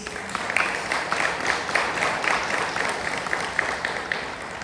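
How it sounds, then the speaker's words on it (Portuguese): A church congregation claps in unison, a rhythmic, evenly spaced beat of many hands sounding close and moderately loud throughout. "Você pode dar uma salva de palmas para Jesus?"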